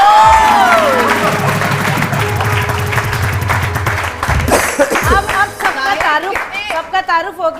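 A studio audience on a Hindi-language morning TV show, Aap ka Sahir, claps and cheers loudly after a guest introduction, with music and talk mixed in at first and the applause sustained throughout.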